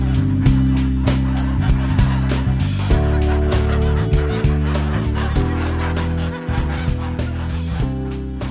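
A flock of free-range geese honks loudly and almost constantly, the overlapping calls close by and dense throughout.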